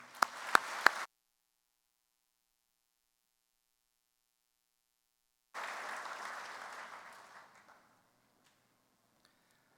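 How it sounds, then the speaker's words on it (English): Audience applause at a Kansas FFA convention session, a burst of clapping with a few sharp claps that stops abruptly, then after a quiet gap a second round of applause that gradually fades out. "Please join me in one final round of applause for Grace's school administrators,"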